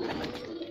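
A prize-winning racing pigeon gives a short, soft, low coo, heard close and alone.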